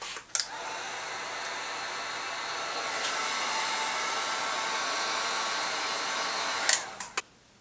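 A hot air blower heats the ribbon adhesive inside a Kenwood KDC-X715 car stereo, with a steady, loud whooshing roar running for several seconds between a switch click at the start and clicks at the end.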